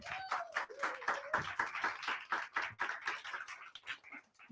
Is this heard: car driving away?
no